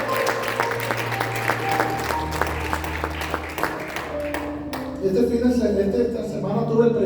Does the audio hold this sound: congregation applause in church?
yes